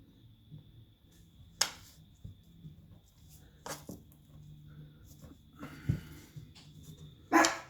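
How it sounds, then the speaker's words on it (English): A dog nearby gives a few short, sharp barks spaced several seconds apart in an otherwise quiet room, with faint low background noise between them. "You'll have to excuse the dog."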